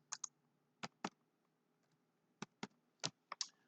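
Keys on a computer keyboard click in short, irregular bursts, roughly ten distinct taps with pauses between them, close and fairly quiet in a still room.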